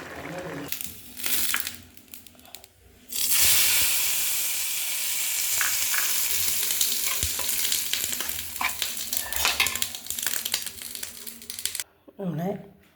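Garlic frying in a curry pan makes a bright, close hiss and crackle that swells after a quieter start, with stirring clatter and rustling. A voice talks over parts of it.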